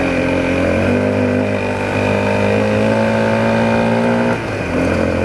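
Honda CRF250L dirt bike engine running steadily while riding off-road, a continuous loud droning hum with a slight dip in pitch near the end.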